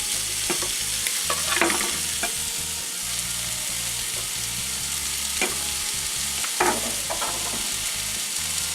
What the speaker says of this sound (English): to that, I'm going to go ahead and add the garlic.